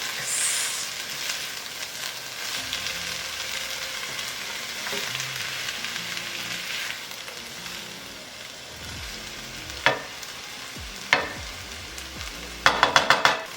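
Egg roll filling with black beans being stirred in a hot pan, a steady sizzle and frying hiss running throughout with a few sharp utensil clicks and scrapes near the end, no talking.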